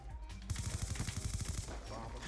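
Rapid hip-fire from an automatic gun in Black Ops 2 Search and Destroy: a tight burst of about a dozen quick, evenly spaced shots lasting just over a second, fairly quiet in the mix.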